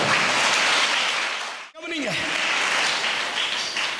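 A congregation claps at a Tamil Christian service, a continuous loud burst of applause that briefly drops out near the middle before resuming and carrying on to the end.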